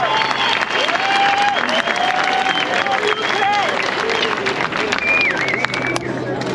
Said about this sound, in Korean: 정말 모든 사람이 기립박수를 했어요